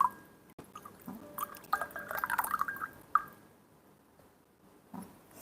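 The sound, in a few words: pouring pu'erh tea from a handmade teapot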